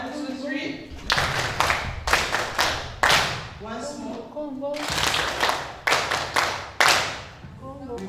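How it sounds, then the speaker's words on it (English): A group at a training session claps together on a count, giving loud, sharp bursts of synchronized hand claps that repeat several times, with a voice speaking briefly between them. "I would like to formally congratulate you with our clap."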